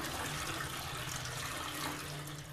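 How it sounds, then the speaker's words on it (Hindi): Water rushes steadily from a Somany one-piece toilet as it is flushed during installation, a continuous close hissing flow with no talking. "फ्लस किया मैं और यहाँ पे पानी आया"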